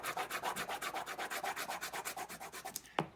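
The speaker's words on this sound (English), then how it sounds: "And I'm going to burnish it a couple of times." Burnishing a fixative image transfer on paper, with about twenty quick, even rubbing strokes in a steady rhythm, close and alone, then a sharper scrape to finish.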